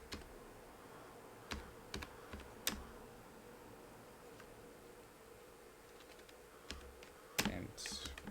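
Sparse keystrokes on a computer keyboard, isolated clicks and short bursts separated by quiet gaps, sitting over a faint steady background hum.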